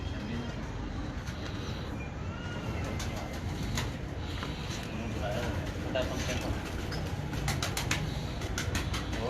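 Champion breeder pigeons coo softly in a loft, their low murmuring continuous under steady background noise and people talking nearby, with occasional brief wing flutters.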